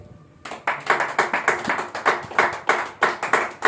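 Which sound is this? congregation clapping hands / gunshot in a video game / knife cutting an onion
congregation clapping hands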